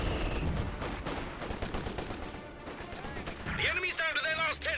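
A 120mm mortar barrage in a multiplayer war video game: sharp, repeated blasts and bursts of fire blend into a dense, continuous roar, with a voice talking over the din.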